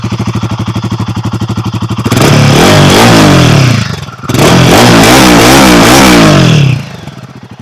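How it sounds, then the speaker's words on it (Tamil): Royal Enfield Guerrilla 450 motorcycle exhaust, loud and close: a steady idle thump for two seconds, then two strong revs that climb and fall back, before settling to idle again. "அண்ட் அப்படியே எக்ஸாஸ்ட் நோட்டுமே வந்து கேட்டுருங்க எப்படி இருக்குன்னு. ஸோ ஐடல் நோட் இது."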